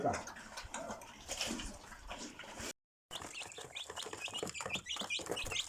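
Soft scratching and fluttering in loose ash mixes with chicks cheeping; a brief gap of silence splits the scratching.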